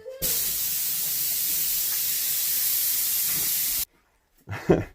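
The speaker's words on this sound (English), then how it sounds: "my son pulled the fucking pop-off valve on the air compressor" Air compressor pop-off valve letting go, a loud, steady rush of hissing air lasting nearly four seconds before it abruptly cuts off, followed by a brief thump.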